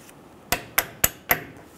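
Four sharp metallic hammer strikes on a punch driving out brake pins on a 2005-2015 Toyota Tacoma, evenly spaced and close, ringing briefly after each blow in an otherwise quiet space.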